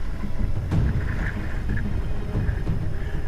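Strong wind of about 20 knots blows on a beach, a steady loud roar buffeting the microphone with low rumble throughout.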